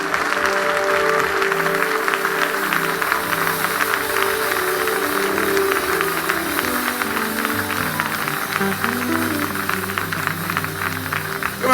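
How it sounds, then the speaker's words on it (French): A church congregation claps together in a sustained, moderately loud round of applause, with low sustained tones and shifting organ-like notes underneath, and no speech. "on applaudit ce matin."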